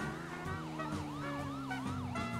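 Police car siren in the GTA RP video game, a wailing electronic tone rising and falling in quick repeated sweeps, loud and steady over a low engine drone for the whole stretch.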